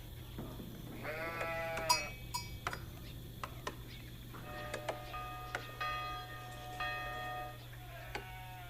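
Sheep bleat in a video game, several wavering calls rising over a steady low hum and scattered clicking game sounds.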